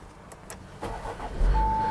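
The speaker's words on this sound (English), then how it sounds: "Car started, so that's good" An Audi A4 B9 engine cranking and catching after a battery change, a brief starter whir rising into a steady idle, close and clear with no voices.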